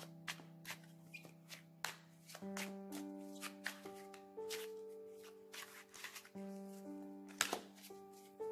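Tarot cards are shuffled by hand for a reading, giving soft, repeated riffling and tapping bursts close by, played over a sustained, ringing musical background of held tones.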